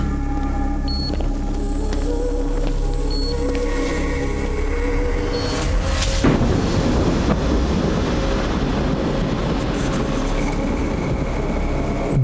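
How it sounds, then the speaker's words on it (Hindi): Thunder cracks in a dubbed South Indian action movie scene. A sharp, loud burst about halfway through rolls into a broad, rumbling roar that lingers to the end over a droning, tonal background. "बिजली कड़की और साथ में पावर आ गया"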